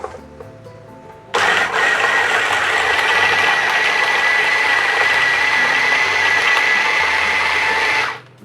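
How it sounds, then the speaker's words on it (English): A kitchen blender's steady, loud motorized whir starts abruptly after a quiet moment, blending water and ingredients for Sarawak laksa, holds an even high-pitched drone for several seconds, then cuts off. "This blender I'm using is actually very convenient."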